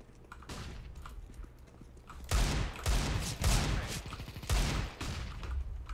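In a video game, a flashbang bursts and gunfire follows in several loud, rapid volleys after a quieter start, with no voices.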